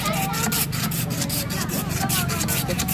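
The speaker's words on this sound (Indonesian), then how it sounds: "Kocok digoyang-goyang tuh." A container of shaved ice drink mixture for old-style Indonesian es serut is shaken steadily, giving a continuous rhythmic rasping, scraping rattle that sounds close and loud for the whole stretch.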